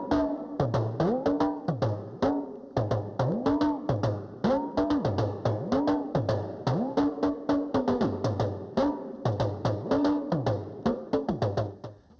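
Rhythmic Yoruba squeezed talking-drum beats with pitch bending up and down on each stroke, played in a quick repeating pattern with sharp slaps on top.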